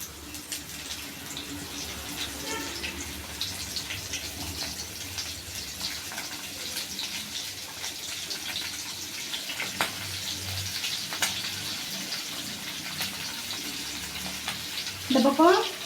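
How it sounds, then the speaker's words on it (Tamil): Masala-coated fish sizzles and crackles steadily in hot oil on a griddle, a soft continuous frying hiss with occasional pops and faint clinks. "நம்ம மசாலா போட்டு பரட்டி வச்சுருக்கிற மீனை எடுத்து ஒன்று ஒன்றா போடுவோம்."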